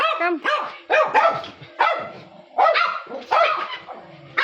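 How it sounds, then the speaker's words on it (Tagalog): A mother dog barks in a close, loud series of yelping barks, with a few short pauses between the bursts. "Unahin natin si Mother Dog"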